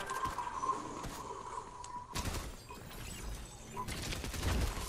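Gunfire in the Fortnite video game, with scattered bursts and sharp shots at low volume under a player's voice chatter, from a Reloaded Zero Builds match.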